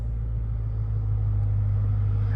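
A 2023 Lexus IS500 engine with an aftermarket exhaust gives a steady, close, deep rumbling drone, constant in loudness throughout with no voices over it.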